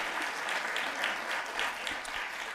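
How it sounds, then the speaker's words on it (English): Audience applause at a library awards ceremony, a steady dense wash of many hands clapping that carries through the whole stretch at moderate level, with no speech over it. "Give a big rounding applause."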